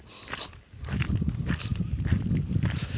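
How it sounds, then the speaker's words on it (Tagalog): Two horses at Paraiso walk with soft, uneven hoof clops under a steady outdoor hum and some wind, moderately close and continuous throughout. "Uy, may kabayo pala dito sa Paraiso."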